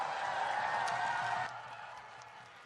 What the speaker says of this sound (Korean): 큰 박수 부탁드리십시오.